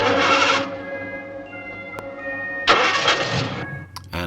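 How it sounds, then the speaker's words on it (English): A very noisy truck in an old Supercar puppet show cranks and coughs into life twice with rough grinding bursts, a steady tonal hum running between them, loud and close. "as Beaker leaves in his very noisy truck"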